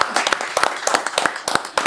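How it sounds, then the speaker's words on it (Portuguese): A small group claps at the end of a podcast segment with the comedy duo Nilton Pinto and Tom Carvalho, giving close, irregular, fairly quick claps that last a couple of seconds. "aplauso aí para eles"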